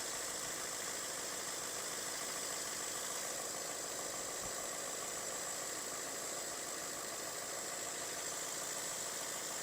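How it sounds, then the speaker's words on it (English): A Ford F-150 pickup truck engine idles steadily and evenly after a carbon clean, a continuous low hum with a faint mechanical rattle, heard close with no voices. "Sounds like an engine again."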